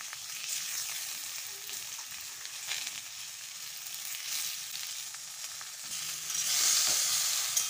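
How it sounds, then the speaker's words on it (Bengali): Raw mango pieces frying lightly in oil in a pan, a steady soft sizzle and crackle that swells louder toward the end, with occasional faint stirring scrapes and no voices. "আমগুলো দিয়ে ভেজে নেব হালকা করে"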